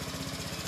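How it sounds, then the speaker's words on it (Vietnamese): A motorcycle engine runs steadily just after being started during a repair-shop diagnosis, a continuous close, rough mechanical drone with a fast pulsing rhythm and no voices. "bây giờ là khi mình nổ máy rồi"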